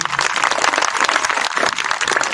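A crowd at a village Teeyan celebration in Pandori, Punjab claps loudly and steadily, dense applause filling the whole moment without a break.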